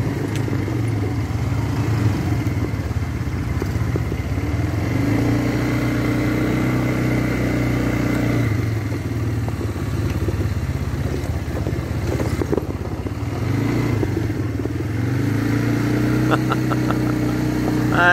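ATV engines riding woodland trails and rough roads in the Chocolate Hills, Bohol, a continuous mid-pitched engine drone rising and falling in throttle throughout, nearby and steady.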